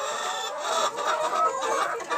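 Hens cluck repeatedly in short, uneven bursts, fairly close, with overlapping calls from several birds and no talking.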